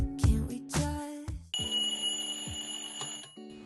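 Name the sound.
very loud alarm ringing in the morning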